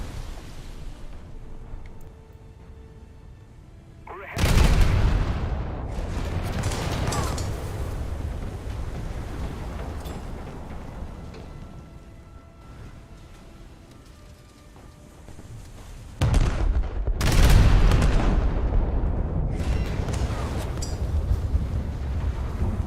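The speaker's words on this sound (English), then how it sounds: "It's a bit awkward having to go full broadside in order to get all of the secondaries firing" Battleship secondary guns firing broadside at a cruiser in a naval combat game: two heavy, booming blasts with long rumbling decays, separated by a stretch of low wind-like background.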